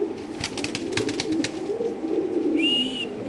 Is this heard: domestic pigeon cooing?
yes